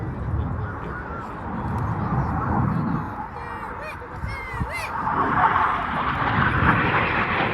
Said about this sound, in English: Coming in from the right hand side is red 8, smoking blue, Flight Attendant David Simmons